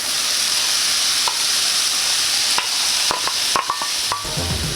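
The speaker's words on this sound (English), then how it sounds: "When your mushrooms have cooked down, you're going to add your onions and garlic." Onions and garlic are added to cooked-down mushrooms in a pan, giving a loud, steady sizzle with a few light clicks of a utensil stirring near the end, and no talking.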